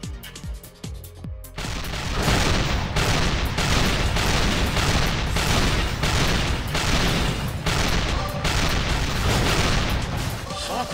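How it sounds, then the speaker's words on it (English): Heavy cannon fire and explosions from the mech combat video game Assault Gunner on PS4 boom in rapid repeated bursts, a dense, loud barrage that continues almost without pause. "I'm actually gonna run out of cannon ammo."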